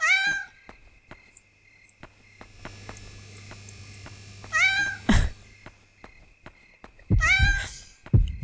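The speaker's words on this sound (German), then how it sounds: "was hat es mit der Katze auf sich?" Cat meows repeat through a night scene in the horror game Yomawari: Night Alone, several clear, high harmonic cries at the start, middle and end over a low steady hum and faint insect-like chirping.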